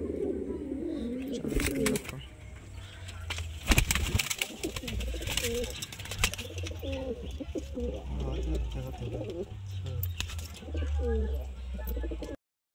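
Pigeons coo in soft, repeated throaty calls at close range, with occasional wing flaps and bursts of noise; people talk intermittently in the background.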